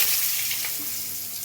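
Potatoes dropped into hot oil in a kadai after the tempering has fried, giving a continuous bright hissing sizzle that gradually eases, close up with no talking.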